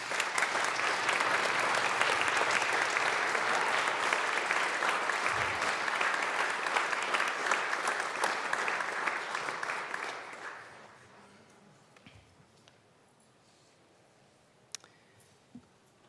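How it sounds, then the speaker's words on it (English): Applause for guests fills a state legislative chamber, the Colorado House, a long steady roar of many hands that fades out after about ten seconds into quiet room tone with a few faint clicks. "a round of applause for our guests"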